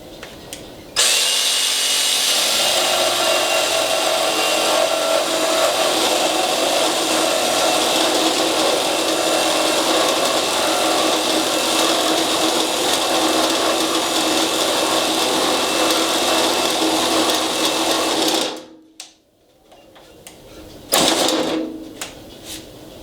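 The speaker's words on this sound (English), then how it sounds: "we're going to use the KIMO blade and just see how well the KIMO blade stacks up to the DeWalt and the Diablo" A KIMO reciprocating saw fitted with a KIMO blade cuts through wood in a loud, steady buzzing run of about seventeen seconds, then stops, followed by a brief burst of motor noise.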